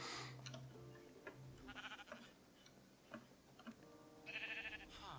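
A sheep bleats in a modded Minecraft world as a spawner produces it. The short, quiet bleat is heard among ticking machinery clicks and a faint hum.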